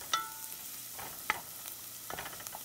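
Minced onion and fresh garlic sizzling in a pan, stirred in scattered scraping bursts over a soft steady fry with no talk.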